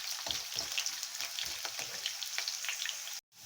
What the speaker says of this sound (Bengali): আলুটাকে ভেজে নিচ্ছি।